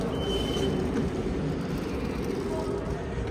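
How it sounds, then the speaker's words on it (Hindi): Double-decker airport express train in snowy Russia, heard as a steady low rumble and hum of the carriage in motion, with faint voices underneath. "सो ये ट्रेन है डबल डेकर।"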